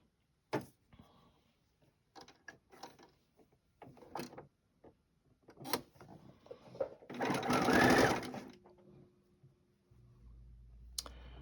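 A sewing machine stitching quilt block pieces together, with scattered clicks and handling noises, then a short loud burst of rapid stitching followed by a low motor hum.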